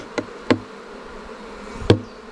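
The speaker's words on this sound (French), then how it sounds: "Là, c'est une abeille, on voit bien, elle est toute poilue." Honeybees buzzing around an open beehive, heard as a steady, low insect hum with three sharp knocks and taps from handling the hive frames.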